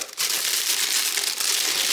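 Paper and plastic foil wrapping crinkle steadily and loudly close up as a shrimp package is unwrapped, a dense continuous rustle with one brief dip near the start.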